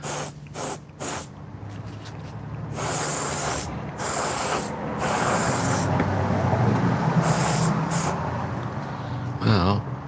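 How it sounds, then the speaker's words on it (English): An airbrush sprays paint onto leather in a few short hissing bursts, then longer steady blasts, close and loud, with a voice at times. "figure out where you're spraying before you come in on it"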